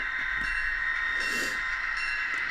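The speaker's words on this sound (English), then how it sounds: "This is a good running locomotive." A model SD40 diesel locomotive runs along layout track with a steady, close mechanical hum and a constant high motor whine, plus a brief swell of hiss midway through.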